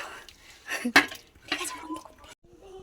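Rice being added to a pot already holding cashews and raisins, with several sharp metallic clinks and clatters of a utensil against the pot and a rattling pour, fairly close, with quiet talk in between.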